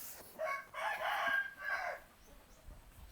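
A rooster crows once at a chicken pen in Bangkok, a clear, fairly close call with a rising start and a drawn-out, wavering middle, followed by quiet background.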